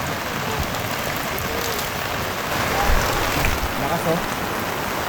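Heavy, steady rain pours down on a campsite in Zambales in a dense hiss, swelling slightly louder midway with strong wind, with faint voices murmuring beneath the downpour.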